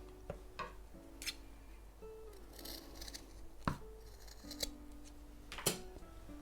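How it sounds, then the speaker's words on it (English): Scissors snip through fabric for a junk journal embellishment, several distinct crisp cuts in an uneven rhythm, close and fairly quiet over a faint steady hum. "I think I need to cut it a bit straighter"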